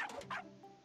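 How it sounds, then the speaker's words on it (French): A dog character in a video game gives a couple of short, sharp barks followed by a brief softer whine, close and alone. "Ben vous voyez, ici, il aboie"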